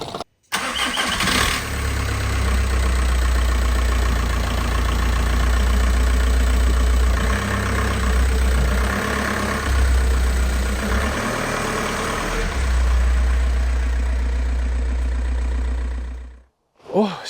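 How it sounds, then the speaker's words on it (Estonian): An Audi car engine idles steadily with a deep, constant rumble for most of the clip, cutting off abruptly near the end. "Nüüd ajame mootori kuumaks ja lähme vaatame, mis ta siis ütleb."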